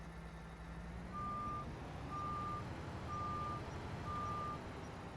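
A harvester in the Farming Simulator 25 video game backs up, sounding four evenly spaced reversing beeps over a low engine rumble. No voices.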